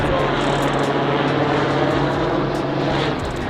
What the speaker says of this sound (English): This is a news helicopter.